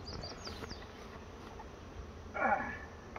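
Honey bees buzzing in a five-frame nuc hive, a steady low insect hum throughout with a brief louder swell of buzzing near the end.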